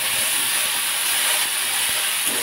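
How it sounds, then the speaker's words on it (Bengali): Asafoetida soaked in ginger juice is dropped into very hot oil that already holds cumin and a bay leaf. The oil hisses and sizzles in a steady, even stream for the whole stretch. "তেল যেহেতু খুব বেশি গরম আছে, আমি হিং যে আদার রসে ভেজানো হিংটা ছিল সেটা দিয়ে দিলাম।"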